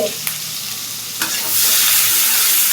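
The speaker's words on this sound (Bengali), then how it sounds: "নাড়াচাড়া করে নিচ্ছি।" Onion and green chilies for a fish curry being stirred as they fry and sizzle in a pan, with a steady frying hiss and a couple of scraping stirs of the spoon, close and alone without talk.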